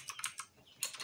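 A burst of keystrokes on a computer keyboard as someone types terminal commands, quick clustered clicks in two short runs separated by a brief pause, close and fairly quiet.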